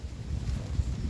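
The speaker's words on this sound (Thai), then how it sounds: "ลมมาแล้วค่ะลมเย็นมาละ" Cool wind blows steadily before rain in an outdoor garden, a soft, continuous airy rush with low buffeting against the microphone, no voices.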